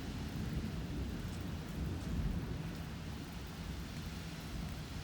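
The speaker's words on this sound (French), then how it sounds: "Ah, et ces impacts de foudre aussi, ça pète vraiment très fort." A violent thunderstorm over Clermont-Ferrand in Auvergne on 14 August 2022 sends a continuous deep rumble of thunder rolling under steady, hissing rain, dense and unbroken for several seconds with no voices.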